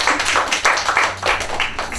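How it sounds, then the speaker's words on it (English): Applause at a graduation awards ceremony for a student receiving CSEC results, a steady patter of many hands clapping at moderate volume for about two seconds, dense and continuous without a break. "Rounds of applause"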